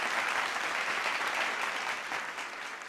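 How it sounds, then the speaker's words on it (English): Dense, steady audience applause filling a pageant hall at Miss Earth Australia 2018 as contestants leave the stage, continuous and loud for the full few seconds with no voices on top. "So let's clap the remaining contestants from the top 10 off the stage."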